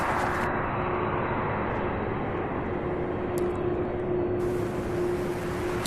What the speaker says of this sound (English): we have a 767 coming out of ramp 3 here